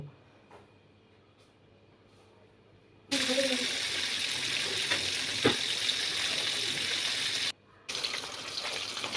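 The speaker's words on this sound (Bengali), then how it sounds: "তেল গরম হলে মাছগুলি ফ্রাই করে নিব" Pond fish drop into hot oil in a wok. After a few quiet seconds a loud, dense sizzle erupts and holds steady, briefly cutting out near the end before resuming.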